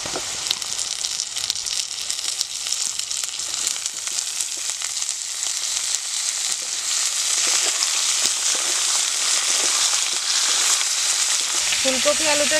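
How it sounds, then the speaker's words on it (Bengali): Cauliflower and potato pieces fry in hot oil in a pan, giving a loud, continuous hiss and crackle that holds steady throughout, with a brief stirring clatter near the end. "ফুলকপি আলু একটু লাল লাল করে ভাজা হয়ে গেছে"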